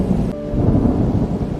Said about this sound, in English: That is a big storm. Bigger than yesterday's.